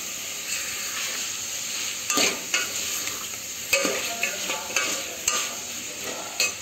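Chicken curry without masala gets stirred in a pan with a spatula, producing a steady sizzle broken by irregular scraping strokes and soft clinks against the metal. No one speaks.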